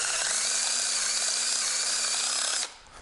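Power drill with a step bit enlarging holes in a metal floor mat rack, a single close, steady high-pitched whine with a grinding edge lasting a few seconds before stopping abruptly.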